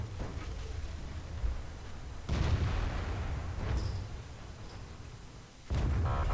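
A tank cannon firing in World of Tanks, from a Bat.-Châtillon 25t: a few sharp booms with rumbling decay against a low battlefield drone, one strong blast midway and another near the end, no voices.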